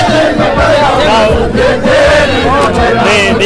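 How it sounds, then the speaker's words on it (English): Dense crowd at a Minnesota rally in support of Prime Minister Dr. Abiy, screaming and chanting leaders' names, with a steady, loud roar of many voices throughout. "they are just screaming the names of the leaders"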